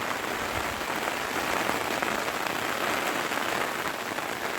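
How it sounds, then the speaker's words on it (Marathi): Heavy rain falling over countryside pasture in Konkan, an even, continuous roar of drops striking the ground, loud and close with no other sounds. "पाऊस बघा कसा लागतो"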